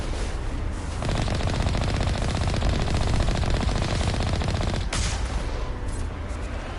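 Mass Effect gunfire, a loud rapid automatic burst of shots running for several seconds, then cutting off abruptly into quieter game ambience.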